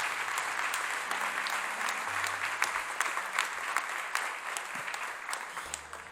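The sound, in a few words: church congregation applauding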